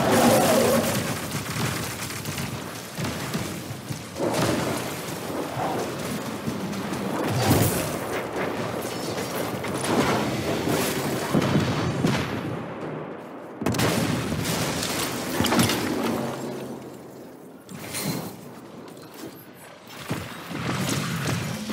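Explosions and gunfire in the sci-fi shooter game Destiny 2 pound away in a dense, sustained barrage of booms and blasts, with a brief lull partway through before the heavy firing resumes.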